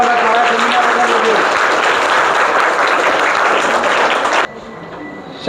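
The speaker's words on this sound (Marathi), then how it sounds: "जोरदार टाळ्या वाजवते बघा." Dense, loud applause from an audience at a Rotary scholarship event in Talegaon Dabhade fills the hall, then cuts off abruptly into quieter room noise.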